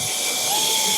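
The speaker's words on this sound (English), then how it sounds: "I want to show you this bad boy in action. Turn them on." A cordless universal paint sprayer runs at a trade show, giving a loud, steady airy hiss and whine that stays constant across a brief moment.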